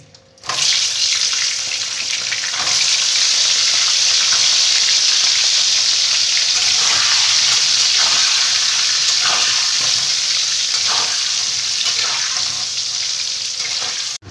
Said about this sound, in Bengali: এবার কেটে রাখা আলুগুলো আমি ভেজে নিচ্ছি।